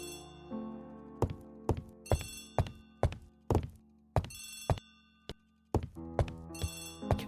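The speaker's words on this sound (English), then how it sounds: "Poirot, the telephone." An old telephone bell rings in sharp repeated bursts, each ring marked by a hard metallic strike, heard close and clear over a quiet background.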